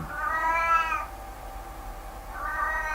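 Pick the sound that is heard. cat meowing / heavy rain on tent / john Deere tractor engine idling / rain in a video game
cat meowing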